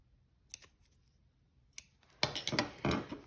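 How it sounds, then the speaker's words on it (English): Scissors trim loose threads on a sewn bra: two isolated sharp snips, then a quick cluster of louder close cutting clicks. "I then cut the end there on both sides, trimming those threads"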